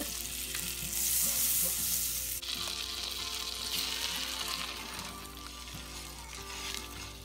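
Fish fillets frying in a pan, giving a steady close sizzle and crackle that holds throughout, with faint low kitchen hum underneath.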